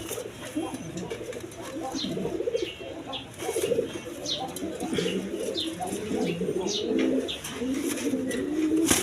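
Large ringed pigeons, including Spanish pouter types, coo repeatedly in a farm loft, overlapping throaty calls with occasional chirps and wing flutters, while someone talks nearby.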